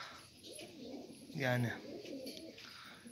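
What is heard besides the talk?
Turkish tumbler pigeons cooing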